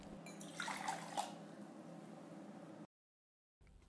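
Water is poured into a cup for someone to drink. A smooth, steady liquid pour runs for under three seconds, close and fairly soft, then stops abruptly into silence.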